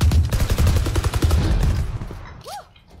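Shooter video game gunfire, a dense string of rapid shots through the first two seconds that tails off, followed by a short rising electronic chirp.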